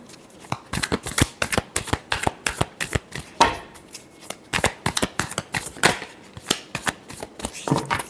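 Tarot cards are shuffled by hand in a quick series of crisp riffling bursts, close and distinct, with a few short pauses between runs.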